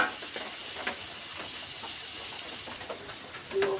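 Bitter gourd with onion and green chili frying in a pan gives a soft, steady sizzle and hiss, quiet and continuous, with a faint brief chirp near the end.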